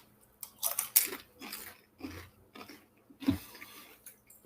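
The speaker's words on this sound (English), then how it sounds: "there's a lot of people that hate the sound of people chewing" Several people eat and chew food, giving soft crunching and biting bursts in an irregular rhythm, close and fairly quiet, with no talking.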